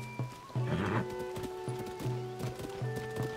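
Horse in the video game Tears of the Kingdom, a string of soft clip-clop hoofbeats in an uneven gait over a steady tonal game backdrop, fairly quiet.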